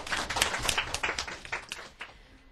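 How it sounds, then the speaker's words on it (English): Schoolchildren in a classroom giving a short round of clapping, a small group's uneven claps close by, lively for a couple of seconds and then thinning out. "Let's give them a little clap."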